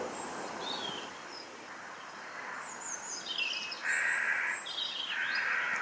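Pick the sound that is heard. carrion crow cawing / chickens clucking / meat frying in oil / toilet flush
carrion crow cawing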